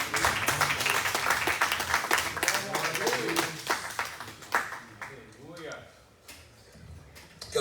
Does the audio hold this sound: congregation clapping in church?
yes